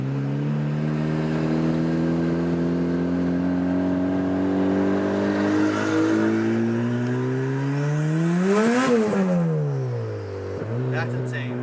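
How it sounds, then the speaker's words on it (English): A turbocharged Toyota Celica GT-S engine idling at a stoplight, holding a steady humming tone before the pitch swells briefly as if blipped, then settles back, loud and close. "Sitting at a stoplight, look at that idle."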